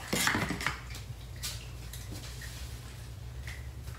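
Big china plates and dishes are handled in a home kitchen, giving a few close clinks and clatters at the start, then a few faint knocks.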